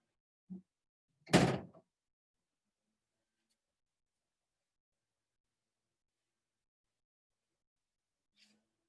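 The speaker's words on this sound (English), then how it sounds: "I'm just going to close the door over here" An indoor door is pulled shut once with a single loud, sharp thud. Quiet surrounds it, broken only by a faint short knock just before and a soft sound near the end.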